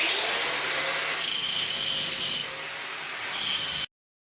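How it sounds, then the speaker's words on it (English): A 4-inch grinder with a grinding wheel trues up metal brackets, a harsh, continuous grinding rasp that eases briefly midway and then stops abruptly. "Back to the 4-inch grinder, just with a grinding wheel this time."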